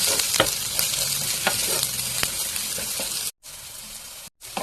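Onions frying over a low gas flame give a steady, close sizzle with occasional stirring scrapes, broken by two short silent gaps near the end.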